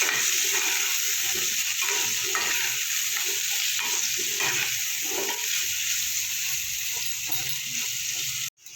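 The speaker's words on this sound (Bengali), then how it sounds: "সামান্য একটু হলুদ লবণ হালকা করে একটু ভেজে নেব" Potatoes fry with a little turmeric and salt in a kadai, giving a loud, steady, close sizzle with soft stirring movements throughout before it cuts off abruptly near the end.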